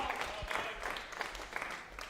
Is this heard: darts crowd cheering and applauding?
yes